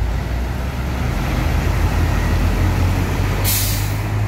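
A bus releases a short, sharp air-brake hiss at night amid a constant low rumble of heavy roadway traffic and idling engines.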